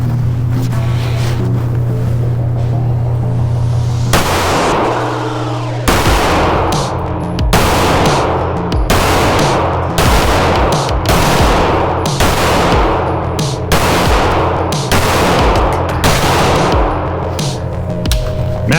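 Ten sharp shots from a Springfield Echelon 9mm pistol on an outdoor range, fired at a steady, slightly uneven pace after a short pause, each loud close report ringing out over a constant background rush.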